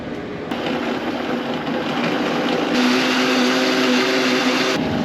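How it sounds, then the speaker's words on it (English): A blender whirs steadily at close range, its motor tone rising slightly partway through, with no voices. "Put that in the blender."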